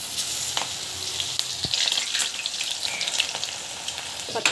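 Drumstick leaf pakoda bubbling and sizzling steadily in hot frying oil, a close, continuous crackle with small pops and no voices.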